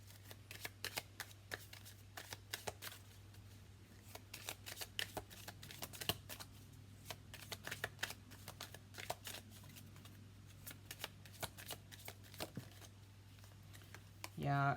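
Tarot cards are shuffled close up in a steady stream of rapid, crisp riffling clicks over a faint low hum, ending with a brief louder knock.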